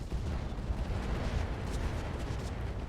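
Heavy mech weapons fire in the Battletech Roguetech mod as a dense, continuous rumble of booming shots and bursts, loud and sustained without pause or talk.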